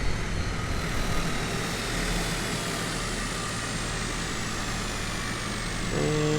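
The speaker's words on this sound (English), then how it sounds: "let's shut down the engine." A propeller aircraft engine in a flight simulator game, on a grass airstrip in Papua New Guinea, drones steadily and loud throughout, its tone sagging slightly as it winds down toward shutdown.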